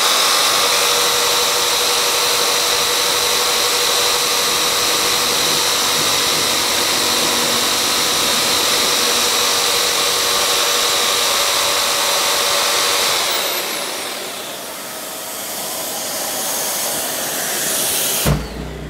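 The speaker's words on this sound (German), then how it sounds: "Wie bei allen Tests mache ich den ersten Schnitt bis zur Hälfte ohne Pendelhub und dann schalte ich den Pendelhub auf die erste Stufe" An Einhell TC-JS80/1 jigsaw cuts through wood with its pendulum stroke switched to the first setting, producing a loud, continuous close-up motor whine and sawing buzz that shifts and drops toward the end before cutting off.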